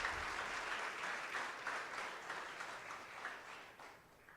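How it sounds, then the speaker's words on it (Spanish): A church congregation applauds during a Spanish-language Christian sermon: a soft, somewhat distant wash of steady clapping that continues evenly and fades slightly toward the end. "Denle un aplauso a Él, se lo merece."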